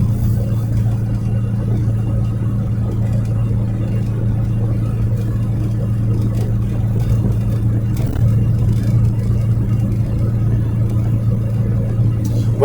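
Steady, low engine hum heard from inside a car, constant and droning throughout with no breaks.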